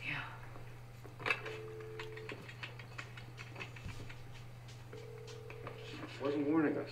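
A landline telephone dials in two short bursts of steady tones, separated by a pause, over a low constant hum, with faint voices and room noise around it.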